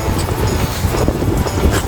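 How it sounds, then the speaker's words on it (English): Steady wind rushes and buffets outdoors, a continuous low rumbling roar with gusty fluctuations, fairly loud and close to the microphone. "It is windy, so this empty bottle is wanting to move on us."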